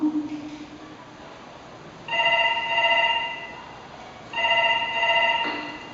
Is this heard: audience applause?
no